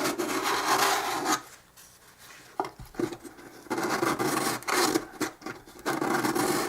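Abrasive rubbing and rasping on wood as the edge of an acoustic guitar soundhole is rounded off, coming in repeated close strokes separated by short pauses.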